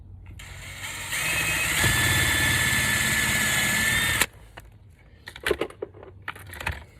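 Power drill boring pilot holes into a composite step board, a sustained high whine for about three seconds, then tool handling clatter and small knocks.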